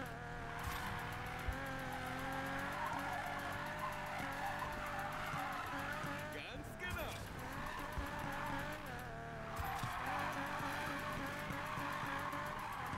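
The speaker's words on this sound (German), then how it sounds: "Das ist meine absolute Lieblingsdriftstrecke, die jetzt gefahren wird." A car drifting in the Need for Speed Payback video game, engine droning steadily with tire squeal and skidding, mostly constant and fairly faint, with a brief dip in the middle.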